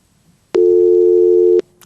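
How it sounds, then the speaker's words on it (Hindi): A single steady telephone tone sounds loudly for about a second after a caller's line drops during a live phone-in show, then cuts off abruptly. "आई थिंक वो किसी की लाइन ड्रॉप हो गई"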